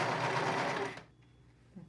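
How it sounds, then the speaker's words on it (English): A serger stitches with stretch thread in a steady, fast mechanical whir for about a second, then stops and leaves quiet room noise with a faint bump near the end. "I am now gonna attempt to serge with my stretch thread for the first"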